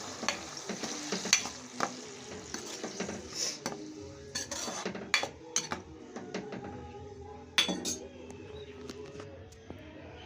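Onion paste for fish curry being stirred and fried in a pan, with a steady sizzle broken by repeated sharp clinks and scrapes of a metal spoon against the pan, close and fairly loud.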